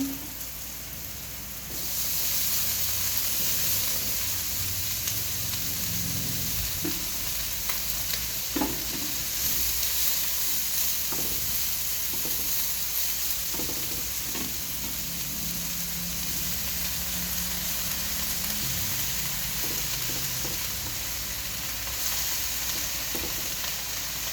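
Water spinach sizzles and crackles steadily as it is sautéed in a hot pan, with occasional stirring scrapes and clinks over the continuous frying hiss.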